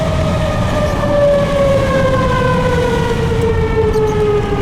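An outdoor tornado warning siren wails loudly and steadily during a major March tornado outbreak, its long tone sliding slowly downward over a constant rumbling wind-like background with no talking.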